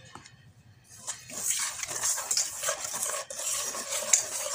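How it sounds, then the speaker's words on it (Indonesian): Flour and sugar for bakpau dough stirred in a bowl, producing a continuous close scraping and rustling with bright clinks of the utensil against the bowl, starting after a brief quiet moment. "Kita aduk. Lalu kita masukkan aneli 1 bungkus saja ya. Campur sampai rata."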